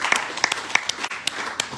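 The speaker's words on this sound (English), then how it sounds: "Let's give a great big round of applause" Applause at a recovery testimony gathering, sparse and uneven, a handful of distinct claps spaced irregularly over about two seconds, fairly close.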